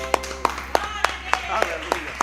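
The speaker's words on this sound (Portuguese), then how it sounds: "As palmas para o Senhor." A church congregation clapping to praise the Lord during a service, evenly spaced rhythmic claps roughly every third of a second over a low steady hum, with some voices in the background.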